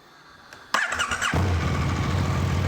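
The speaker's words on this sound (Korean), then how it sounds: "일단 아크라포빅 머플러 사운드부터 한번 들어보도록 하겠습니다." A 2017 KTM 1290 Super Duke GT with a V-twin engine and an Akrapovic slip-on muffler is started up: a brief starter whir, then the engine catches with a sharp bark and settles into a loud, steady, close idle.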